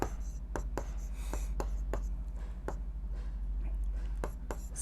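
Pen scratching on paper during a Class 8 Sanskrit lesson, a series of short sharp strokes and taps repeating irregularly over a steady low background hum, close and fairly faint.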